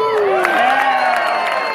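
A crowd at a Renaissance festival show cheers and whoops, sustained and fairly close, with excited voices rising over the noise.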